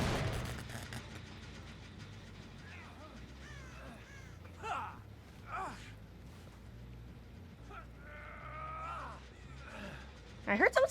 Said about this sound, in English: I heard someone set off a crow over here